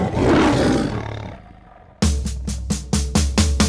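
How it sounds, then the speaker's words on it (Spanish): A lion lets out a loud roar that swells and fades, followed by a run of short, rhythmic grunting roars, close and alone with no talk. "Dime si tú sabes cómo hace el león, vamos a escucharlo tú y yo."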